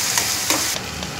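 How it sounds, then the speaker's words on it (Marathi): Onion and tomato sautéing in a pan for egg bhurji, a close steady frying sizzle with a few brief stirring scrapes, no talking. "आता थोडं परतून झालंय, त्यात टाकतो आपण टोमॅटो"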